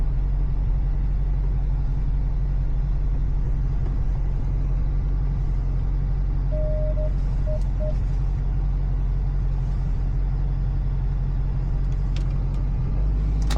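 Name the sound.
car interior engine rumble while driving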